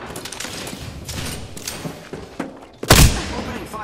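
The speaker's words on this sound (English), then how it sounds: "Opening fire on the enemy." Gunfire in the video game Apex Legends: a single loud, sharp shot cracks out near the end, after a stretch of quieter scuffling game sounds.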